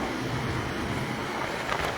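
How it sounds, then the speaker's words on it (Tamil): Steady wind blowing across an open microphone by the Kaveri river bridge at Trichy, a continuous soft rushing with a faint watery wash beneath, no voices. "நல்லா சிறு சிறு காற்று அடிக்குதுங்க"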